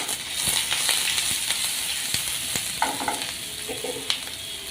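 Cumin seeds and chopped onion fry briskly in a pan, a close crackling sizzle with steady stirring and sharp spoon scrapes and clicks scattered throughout, with no talking.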